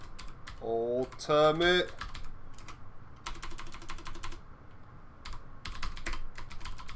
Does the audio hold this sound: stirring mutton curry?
no